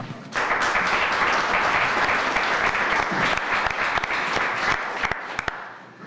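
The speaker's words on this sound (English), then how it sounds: "Round of applause." Applause fills a community board meeting during an awards presentation for nature and harmony honorees, a steady wash of many hands clapping together that carries on for about six seconds and thins out near the end.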